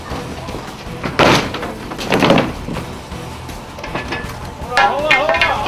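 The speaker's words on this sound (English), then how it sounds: "Matt removes the sheet of plywood that covered the front door." A sheet of plywood is pulled off the boarded-up front door of a vacant house at a residential fire, giving a few loud scraping, knocking bursts of wood against the frame over steady background noise.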